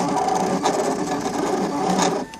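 Brother Scan n Cut cutting machine direct-cutting a fabric applique, a steady close mechanical whir and buzz of the carriage and blade that runs evenly, then cuts off at the end.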